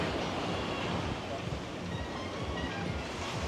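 Sea waves wash onto the beach at Arcadia, a steady broad rushing surf with wind noise, with a voice talking over it.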